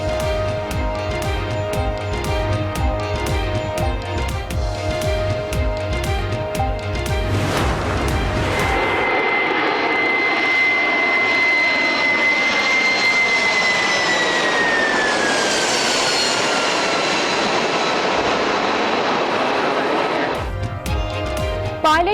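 Jet engines of an Air Canada airliner that landed at Madrid airport after its landing gear broke and jammed in an engine; a loud, sustained whine with a rising, then falling tone dominates after an earlier stretch of rhythmic music.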